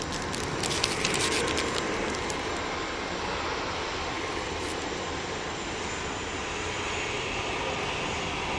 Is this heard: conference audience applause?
no